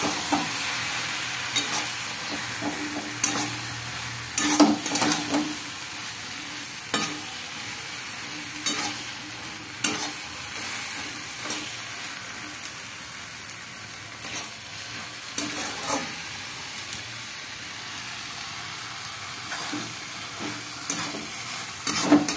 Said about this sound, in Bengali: পোস্তটা দেখো অ্যাড করে দিলাম, ভালো করে পোস্তটা মিশিয়ে দেবো।